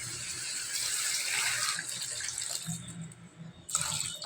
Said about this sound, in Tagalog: lagyan natin ng kunting tubig